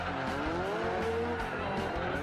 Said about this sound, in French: Il n'y a pas loin de 1000 chevaux sur le circuit et les dérapages sont incroyables.